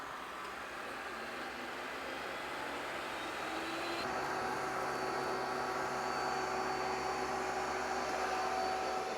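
A steady mechanical whir of an Ecovacs T30S robot vacuum running nearby, a constant motor hum with a slight shift in pitch partway through and no talking.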